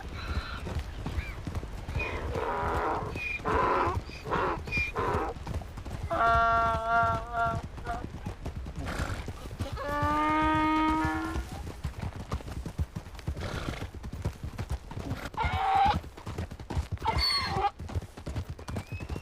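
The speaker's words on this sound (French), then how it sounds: "l'âne, il fait tout le temps des bruits comme ça" A female donkey brays in drawn-out wheezing, honking bursts, two clear calls in the middle, amid hoof clatter and shuffling nearby while people talk around it.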